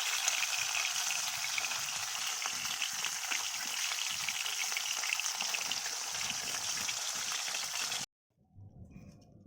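Fish frying in a karai (wok), a steady dense sizzle and crackle that runs loud and close for about eight seconds, then cuts out abruptly, leaving a brief low rumble at the end.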